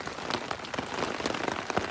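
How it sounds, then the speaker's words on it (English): Heavy rain drums steadily on a camping tent, a dense, continuous patter of close, loud drops striking the fabric with no voices. "it's so loud. I might have to put my"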